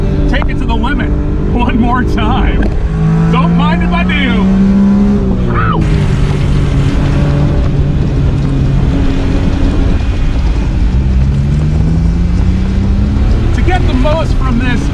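A 1991 Honda Beat kei car's small 3-cylinder engine revving hard while driving, loud and close with rising and falling pitch as gears change, plus an upshift midway, and someone talking over the engine noise.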